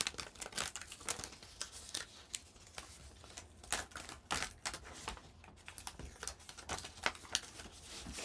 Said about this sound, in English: Carefully remove the excess paper.